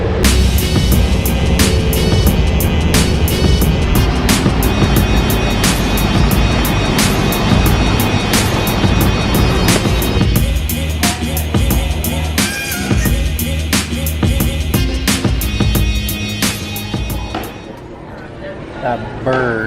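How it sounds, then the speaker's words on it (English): Airport shuttle bus carrying passengers between terminals, a loud, constant engine drone and road rumble filling the cabin, with rhythmic clicks and knocks and a slight easing near the end. "We're on a bus going to a different terminal."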